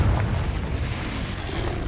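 Confringo, the explosive fire spell in Hogwarts Legacy, gives a continuous deep rumbling boom that stays loud and even throughout, with no voices over it.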